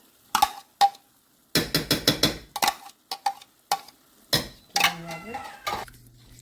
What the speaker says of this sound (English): our yogurt is mixed in and we're letting it cook through a bit with our spices